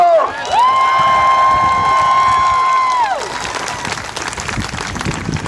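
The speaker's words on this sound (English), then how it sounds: "Give him one more big round of applause." At a campus solidarity encampment rally, a long sustained horn-like tone sounds loudly before giving way to a crowd applauding and cheering, a diffuse wash of clapping and shouts.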